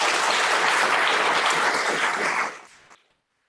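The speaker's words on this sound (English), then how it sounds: "Give them a round of applause." At a natural resources law conference, an audience applauds loudly and steadily, the full-room clapping holding strong before tapering off and fading to silence near the end.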